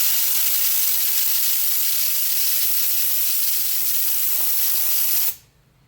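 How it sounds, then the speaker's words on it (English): A spray gun mists Fluid Film undercoating in a steady, loud, close hiss that holds evenly for over five seconds and then cuts off abruptly. "It's got a fine mist of fluid film that comes out."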